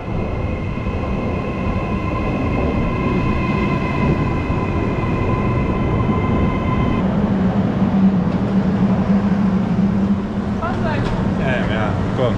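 A train on the Cinque Terre coastal railway rumbles steadily and loudly throughout, with a high steady whine early on, a deeper hum building near the end, and voices talking under the noise.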